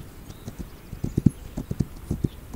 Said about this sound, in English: A lot of horses.